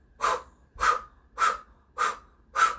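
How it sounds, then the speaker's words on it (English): Breath of fire in Kundalini yoga, practised sitting tall in a yogic posture: five sharp, forceful nasal exhalations at an even pace of roughly one every 0.6 s, each a short, close, breathy puff with quiet gaps between. "Begin breath of fire."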